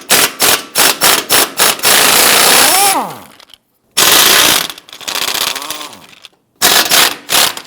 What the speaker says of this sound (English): Using our 13mm socket and our extension with our impact, go ahead, loosen and remove the 4 bolts on the driver's side.